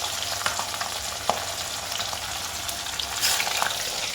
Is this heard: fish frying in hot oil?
yes